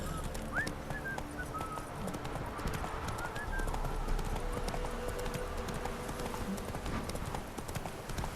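Horse hooves gallop in The Witcher 3: Wild Hunt, a fast steady clip-clop close by with a brief whinny, continuous over game ambience and without talk.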